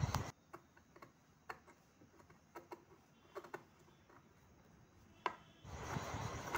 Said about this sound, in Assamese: এতিয়া এই চিনে চিনে আমি কাপোৰ টুকুৰা কাটি